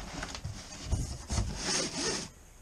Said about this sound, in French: On va ouvrir ce colis-là